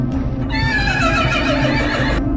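Horses whinny loudly and close by as they are driven away, one long, wavering neigh lasting about two seconds with low rumbling noise underneath.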